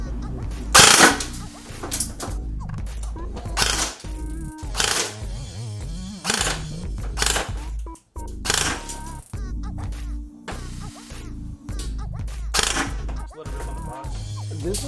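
An Airsoft GI custom-built sniper rifle fires several sharp, separate shots spread over the stretch, each a short crisp snap. Between the shots come mechanical clicks and handling noises, and people chat now and then.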